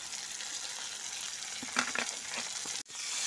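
Chopped tomato, capsicum and spring onion fry in a pan with a soft, steady sizzle that continues unbroken apart from a brief dropout near the end, with no voices.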